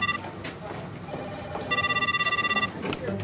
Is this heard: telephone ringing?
yes